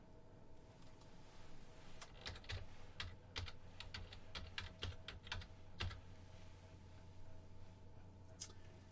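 Someone types a company name on a computer keyboard, producing faint, irregular key taps in short bursts over a low steady hum, with no talking.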